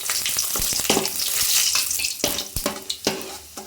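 Ingredients for kesari being roasted one by one in a pan, giving a steady, close sizzle broken by sharp clicks and scrapes of stirring, with no one speaking.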